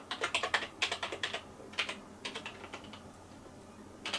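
Password typed on a computer keyboard while setting up a Raspberry Pi 4 Kodi media centre: quick clustered key clicks in short bursts with brief gaps, close and fairly quiet, no talking.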